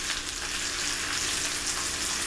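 Home fried potatoes sizzle loudly and steadily in a hot pan as they are flipped, a dense close crackle with no pauses and no talking.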